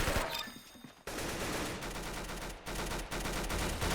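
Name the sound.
gunshots being fired in Roblox Arsenal video game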